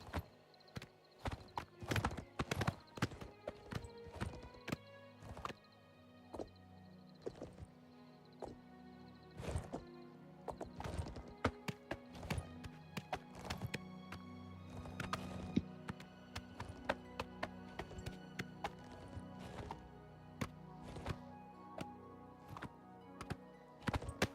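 Horse hooves clip-clopping in a video game, a steady walking rhythm near Cheydinhal, sharp and close, with faint tonal background music underneath.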